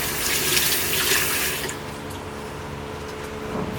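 Tap water runs steadily into a sink inside a converted truck container home on Siargao Island, loud and close with a broadband splashing hiss that drops somewhat after the first moments and then continues evenly.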